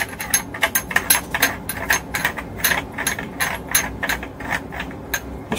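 Metal cap being screwed down by hand on a Benjamin 3600 .177 CO2 repeater air rifle after loading a cartridge, a close run of quick ratcheting clicks and small mechanical ticks in an irregular rhythm.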